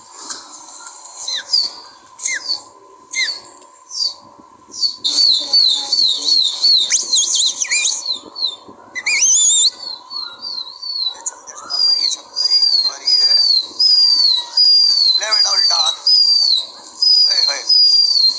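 A released pigeon beats its wings in bursts of flapping among steady chirps and whistling birdsong, fairly close and loud.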